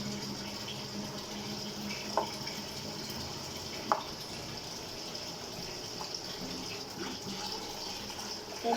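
Tap water runs steadily into a kitchen sink during washing, a continuous hiss broken by a few brief clinks and splashes, with no voices.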